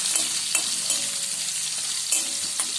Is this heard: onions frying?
yes